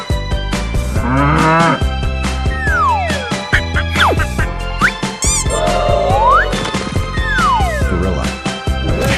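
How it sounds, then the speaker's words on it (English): Cartoonish cow moos from an animal slide video game, loud and repeated, mixed with bright sliding whistles, boings and clattering game effects in a busy, energetic soundscape. "Cow."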